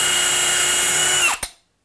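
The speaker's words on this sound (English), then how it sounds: "I'm gonna pre-drill" A power drill whines steadily at high speed while pre-drilling a hole into a pocket door frame, then winds down and stops abruptly near the end, with no one talking.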